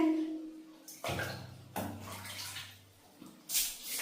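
Water splashes in short bursts while a child is bathed, with several uneven dumps and sloshes of water close by, a faint voice heard in the background.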